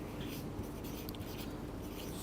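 Steady scratchy writing on a board during a physics lecture, a continuous soft scraping that runs unbroken and fairly faint, with no one speaking.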